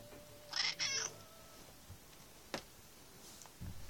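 Oreo, a pet cat, lets out two quick, strained meows with a hoarse, weak voice, followed by scattered faint clicks and rustles in a quiet room.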